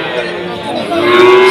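Cattle at a cattle market in Tuban, Indonesia, a loud sustained moo rising at the end, set against steady crowd chatter and market bustle.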